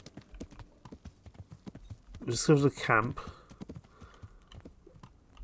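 Horse hooves clip-clopping at a walk in the medieval game Kingdom Come: Deliverance, a steady run of soft thuds throughout, with a louder snort or whinny midway and someone talking over it.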